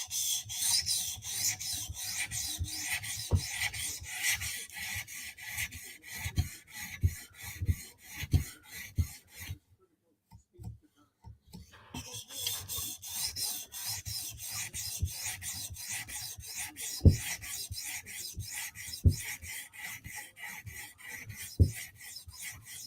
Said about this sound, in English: now let's jump down to our 400 grit stone